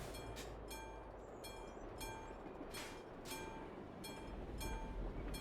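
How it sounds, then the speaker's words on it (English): A train rumbles past in Euro Truck Simulator 2, a steady loud roar with repeated rhythmic clanks and bright metallic rail tones recurring across the whole stretch. "Got a train coming up."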